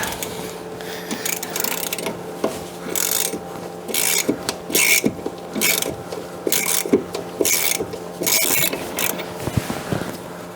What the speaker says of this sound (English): remove this bolt with an 18mm socket